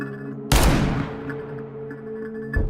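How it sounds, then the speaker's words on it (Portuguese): A single sharp gunshot cracks out loudly and decays into a short tail, followed by a faint background hum and a smaller impact near the end. "Maria da Penha é baleada enquanto dormia com um tiro nas costas"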